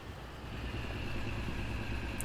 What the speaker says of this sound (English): Great sounds on this tractor too.